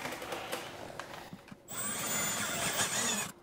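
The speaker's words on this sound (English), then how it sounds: "now we're gonna go back through with our 1/2-inch drill bit" A power drill with a 1/2-inch bit bores holes for a roof rack on a Jeep Wrangler, a short close burst of motor whine after a brief pause, with faint handling noise before.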